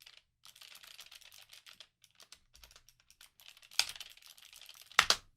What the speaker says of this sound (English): This will be keyboard test with lower the gain on the microphone and typing in the background.